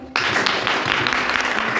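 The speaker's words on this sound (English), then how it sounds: "Sit down, clap for him." A grade 10 classroom bursts into applause for a student, many hands clapping together at once, loud and dense, starting abruptly and holding steady.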